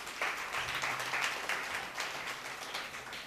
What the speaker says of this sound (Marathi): त्यामुळं आपल्या साऱ्या रसिक प्रेक्षकांसाठी एकदा जोरदार टाळ्या होऊन जाऊ दे